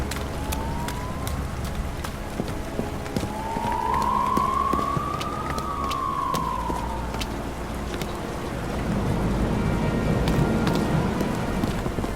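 A police car siren in the video game Nobody Wants to Die, rising and falling once at a distance over steady rain and city ambience, with no speech.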